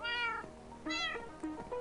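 Cats in the video game Minecraft, Tekkit modpack, giving two or three clear, close meows in quick succession, with no talk.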